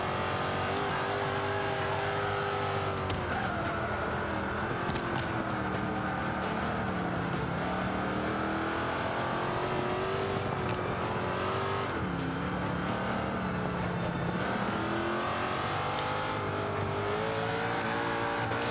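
Range Rover engine racing around the Indy GP circuit in Forza 5, a steady, continuous drone that rises and falls in pitch through gear changes and corners, with occasional tire noise and no voice.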